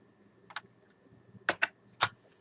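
A few separate keystrokes on a computer keyboard while entering a spreadsheet formula in Excel: one tap, then a quick cluster of three, close and fairly quiet with near silence between.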